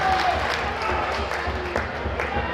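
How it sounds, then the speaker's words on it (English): Crowd applause at a junior hockey game between the Buffalo Regals and Caledonia Corvairs after a goalie's save, a steady wash of clapping from the arena throughout. "the crowd gives him a hand"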